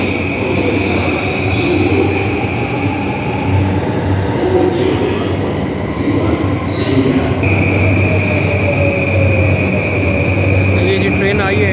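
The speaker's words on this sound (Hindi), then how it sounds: "ये जी ट्रेन आई है" A train pulls into a station in Japan with a loud, continuous rumble of wheels and car bodies, plus a steady high whine and some brake squeal as it slows, close and filling the whole scene.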